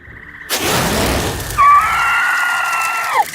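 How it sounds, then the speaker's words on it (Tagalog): An aswang creature lets out a loud howl after a sudden harsh crash, holding a long wavering shriek for a couple of seconds before it trails off in a dark horror-story setting. "may isang aswang na umangil ng malakas"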